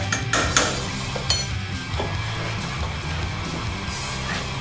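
Thrice cooked pork with a little treacle stirred in a pan, with a few metallic clinks and scrapes of the utensil near the start, then a steady low sizzle and kitchen bustle.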